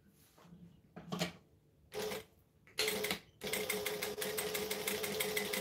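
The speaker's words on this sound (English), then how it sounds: "I'm going to top stitch along this whole edge" A sewing machine top-stitches along a pocket edge, starting in short stop-and-go bursts before settling into a steady, continuous whirring run that stays close and fairly loud.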